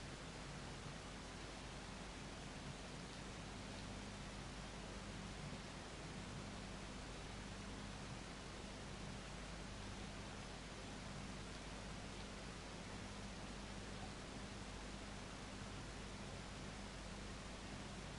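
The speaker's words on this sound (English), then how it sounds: "That dripping noise or rain isn't me, by the way. That's the title screen." Rain from the title screen of the video game Castlevania Requiem - Symphony of the Night, a constant, even hiss of falling and dripping water that stays level and unbroken throughout, with no voices.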